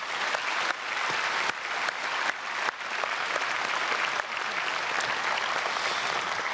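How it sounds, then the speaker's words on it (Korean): A church congregation at a special early-morning service gives a sustained round of applause for the children, a dense, even clapping that runs on continuously at moderate distance. "우리 아이들 위해서 한번 크게 박수해 주시면 감사하겠습니다."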